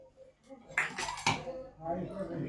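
A spoon scrapes and clinks against a pot as cooked khichdi is stirred, two sharp metallic knocks followed by softer thick scraping, with faint voice in the background.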